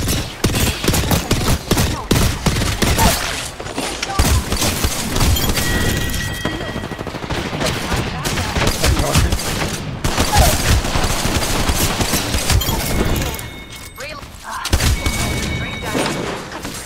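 Gunfire in Apex Legends crackles almost nonstop in loud, dense bursts of rapid shots mixed with heavy thuds, close and continuous with brief lulls, while a voice talks over the fighting.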